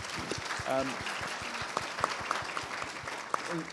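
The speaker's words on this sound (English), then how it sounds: "so let's all applause" Steady applause from a crowd at a research forum panel, a continuous wash of clapping with a few sharper claps standing out, while a voice speaks over it.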